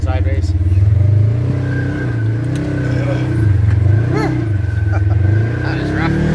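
ATV or UTV on studded Traxion Glacius winter tires sliding sideways through deep snow, a loud, close engine revving up and down repeatedly while a rider talks over it.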